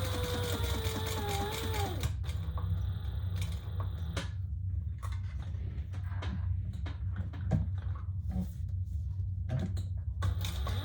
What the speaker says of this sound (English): now we're gonna sew around the outside of our ID window